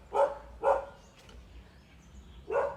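Three sharp dog barks at the Wat Ratchapradit Sathan temple grounds, two close together and then one after a pause, fairly near, with no talking over them.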